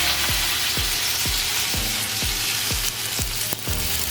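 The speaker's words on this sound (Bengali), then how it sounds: "আমি কুচনো পেঁয়াজগুলোকে তেলের মধ্যে দিয়ে দিচ্ছি" Chopped onions hitting hot oil for biryani birista, a loud dense sizzle with a regular low tapping about twice per second running through it, steady and close.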